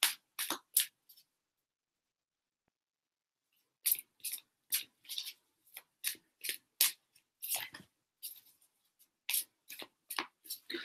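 Tarot cards are shuffled and slid by hand at close range. Crisp, papery bursts come at the start, then a silent pause, then a quick uneven run of riffles and slides.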